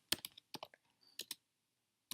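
A handful of crisp keyboard keystrokes type out a short terminal command, a quick cluster of clicks, a pause, then a few more taps, close and quiet.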